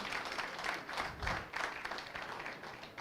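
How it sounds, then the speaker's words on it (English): Audience applause at an anniversary lecture on Nigerian tax reforms, a moderate wash of clapping from a seated crowd with pulsing swells, heard at some distance. "Ladies and gentlemen, one more time, a round of applause for him."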